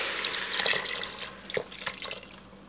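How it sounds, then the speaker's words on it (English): Home canned chicken stock poured from a quart jar into a pot, a continuous splashing, gurgling stream that turns into uneven sloshes and drips toward the end, close and fairly loud. "I'm adding in 1 quart of home canned chicken stock."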